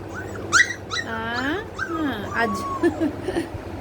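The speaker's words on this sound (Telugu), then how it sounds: "ఏమి డుబ్బు కుక్క?" A golden retriever puppy whimpers and yips in high, wavering cries, several drawn-out whines close by, while a person talks softly over them.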